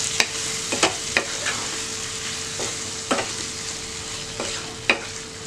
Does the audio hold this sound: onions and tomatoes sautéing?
yes